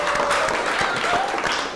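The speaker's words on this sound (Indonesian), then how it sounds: "Boleh tepuk tangan ya." Audience clapping, a short, even burst of applause with a faint tonal hum running underneath.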